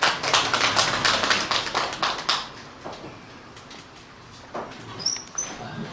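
Audience applause welcoming a poet at a reading, a brief burst of claps that fades after a couple of seconds, followed by a few faint scattered sounds.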